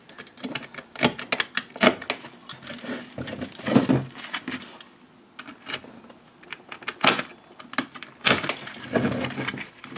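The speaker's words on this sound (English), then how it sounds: "What we need to do now, with yon Stanley knife, is just cut off the excess." A Stanley knife trims excess resined material on a motorcycle mudguard in a garage, making close, sharp scraping and snapping cuts in uneven bursts with brief pauses between strokes.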